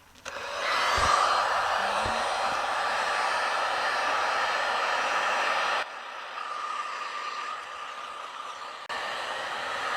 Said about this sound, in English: I'm going to use the heat gun method.